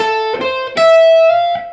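Clean electric guitar plays a short part of a lick, a few plucked notes sliding up into a long sustained note, close and clear with no talking.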